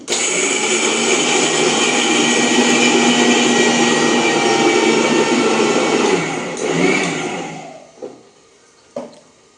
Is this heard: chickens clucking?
no